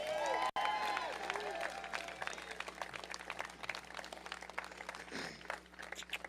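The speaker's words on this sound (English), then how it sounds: "Let's give another round of applause." Clapping from a rally crowd in Washington, DC at a March For Our Lives pre-rally, starting with brief cheering and a sharp knock, then continuing as a dense, moderately loud patter of hands, with a faint voice near the end.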